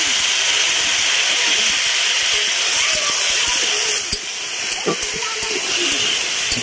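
Water added to a hot pan during home cooking, bursting into a loud, sustained hiss of steam that fills the whole stretch, easing slightly toward the end, with faint kitchen clatter underneath.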